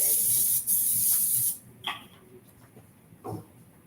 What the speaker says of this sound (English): You're going to spray it with cooking spray so that the pizza dough doesn't stick.